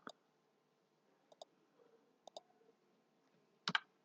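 Computer mouse clicks while working in 3D CAD modeling software, a handful of quiet, close double clicks spaced irregularly, ending in a slightly louder pair.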